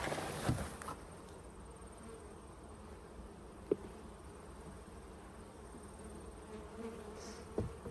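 Honeybees buzz steadily around an open beehive, a dense, even drone close by, with a few soft knocks and bumps from the hive.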